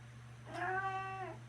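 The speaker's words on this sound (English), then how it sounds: "What a good kitty." A female cat meows once, a clear, drawn-out call heard close up over a low steady hum, with no one talking.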